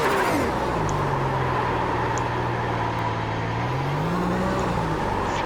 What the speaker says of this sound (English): And now we are all doing some traction control burnouts at the source.